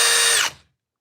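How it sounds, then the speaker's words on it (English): A Milwaukee Gen 2 Surge drill whines loudly at close range for about half a second, then spins down and cuts off into silence. "This is by far the best power to weight ratio drill in the game today"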